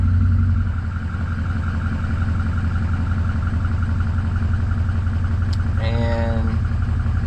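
A 6.0L diesel engine with a faulty injection control pressure system cranks, catches and settles into a steady, rumbling idle, heard up close with a brief higher whine toward the end.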